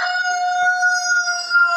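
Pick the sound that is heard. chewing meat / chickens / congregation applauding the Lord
chickens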